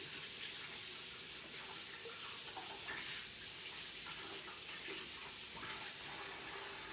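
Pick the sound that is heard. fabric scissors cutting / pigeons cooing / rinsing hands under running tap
rinsing hands under running tap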